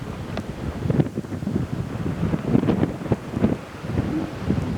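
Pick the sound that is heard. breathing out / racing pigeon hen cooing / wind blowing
wind blowing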